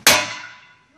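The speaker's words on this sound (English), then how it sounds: "So, got a little standard hammer here. As you can hear, I'm hitting it pretty hard." A standard hammer strikes a pane of tempered glass hard, giving one sharp, loud metallic clang that rings out and decays over about a second, with no breakage.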